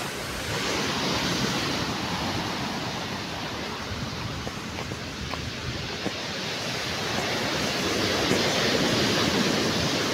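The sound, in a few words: big ocean waves at Tangkaan Beach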